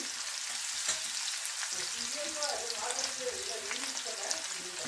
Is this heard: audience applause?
no